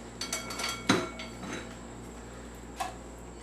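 White beans tip into a cooking pot of ribs and beans, giving a few clanking metal-and-pot hits with one sharp knock, then a lone later clink in an otherwise quiet kitchen.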